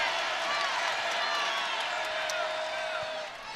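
A home crowd roars steadily at an ACC women's basketball game between North Carolina and Virginia Tech, a dense, sustained cheer with whistles and shouts that eases slightly near the end, with a commentator's voice over it.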